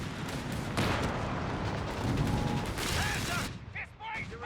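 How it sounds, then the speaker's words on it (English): An anti-tank gun fires in Company of Heroes 3 amid a busy battle mix of rapid gunfire, clanking mechanical rattles and sharp impacts, dense and loud before tapering into scattered chirps. "AT gun lands a shot there"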